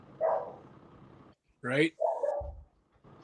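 A dog gives a few short barks and yips amid a live broadcast from a tractor pull event, with people talking over and between the barks.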